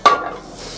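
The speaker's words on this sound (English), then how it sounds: "we're gonna just throw it in the pan" Dehydrated soy chunks tossed into a pan make a single quick clattering impact followed by a soft brief sizzle that fades within a second.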